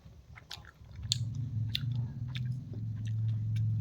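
Soft close-up chewing and biting of sweet jamun fruit (java plums), a few crisp bites over a low steady background hum, quiet and intimate with no talk.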